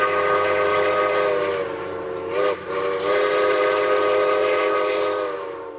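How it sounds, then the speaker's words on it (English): Royal Hudson steam train on the Squamish line by Howe Sound, a sustained loud whistle-like harmonic tone with rumbling rail noise, briefly dipping midway before resuming steadily. "they all seem to know about the Royal Hudson Steam Train"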